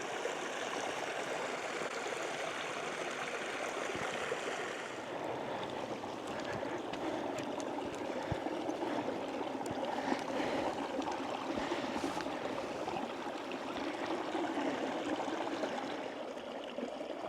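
A creek runs over rocks and chunks of agate-bearing bank near Brian Head Peak, with a continuous close rushing and babbling that stays steady throughout.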